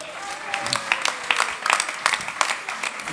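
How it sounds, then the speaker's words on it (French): Audience at a concert applauding two soloists, a dense patter of many hands clapping with sharper individual claps standing out, fairly loud and steady throughout. "peut applaudir nos deux solistes"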